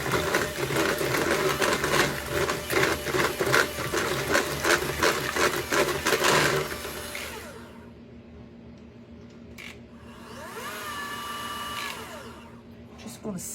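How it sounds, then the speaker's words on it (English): A cordless KitchenAid mixer beating cake batter for a triple coconut bundt cake hums and whirs steadily up close for several seconds, then cuts to a quieter kitchen with a fainter, wavering whine. "it's a cordless KitchenAid mixer."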